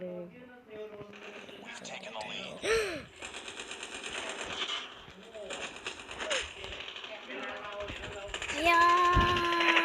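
Bursts of rapid automatic gunfire in an online shooter game, mid-level and repeated across the stretch, mixed with game effects and player voices talking.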